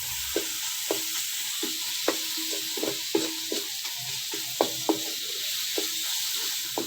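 Vegetables tumble into a pan of spiced tomato masala for aloo shimla mirch (potato and capsicum), a steady sizzle of frying with repeated close scraping and stirring knocks, no talking.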